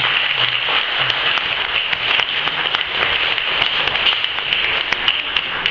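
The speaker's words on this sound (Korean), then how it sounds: "박수해 주시기 바랍니다" A church congregation applauds during an anniversary founding service at a Methodist church, a dense, even wash of many hands clapping that carries steadily throughout with no talking over it.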